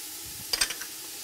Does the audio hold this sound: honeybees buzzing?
no